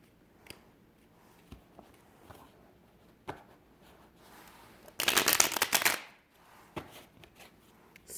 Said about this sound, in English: These cards need to be shuffled.